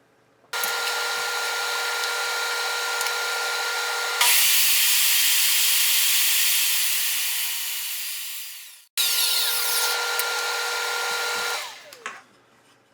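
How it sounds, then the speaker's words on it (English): Resawing a 2x4 on a saw set against a Rockler thin stock jig: loud, steady blade whine and cutting noise in two long passes with a brief gap between them, no voices. "to resaw it, I'm going to use my Rockler thin stock jig"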